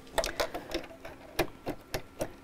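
A domestic sewing machine fitted with its standard presser foot stitches in short bursts, a series of distinct mechanical whirs and clicks at close range, with no talking.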